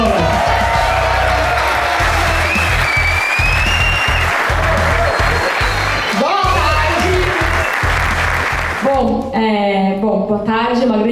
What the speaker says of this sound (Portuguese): Kim Kataguiri, uma salva de palmas